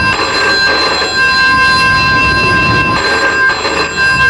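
Telephone ringing in a radio advert, sharp electronic bell bursts in two rings separated by a pause, loud and close with no talking over it.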